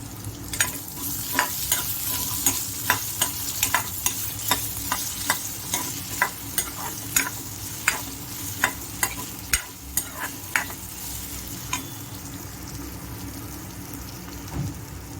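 Raw potato fries in hot oil over a high flame, a steady close sizzle broken by repeated scraping, clacking strokes of a spoon stirring the pan, with no voices.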